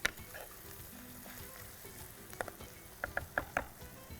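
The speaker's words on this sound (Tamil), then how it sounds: "முருங்காய் போட்டு நல்லா வதக்கிடுறோம்" Drumsticks and green chillies being sautéed in a pan, a faint, soft sizzle with a few sharp spoon taps and scrapes near the end, close by and quiet, with no speech.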